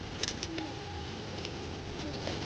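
Soft pigeon coos rise and fall against a steady background hum, with a few faint chirps.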